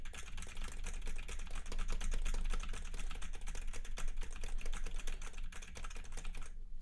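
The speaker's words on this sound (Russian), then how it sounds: "Теперь стучу одновременно и по клавиатуре, и по мышке." Rapid, continuous keyboard tapping mixed with sharp mouse clicks, close and busy, with no voices.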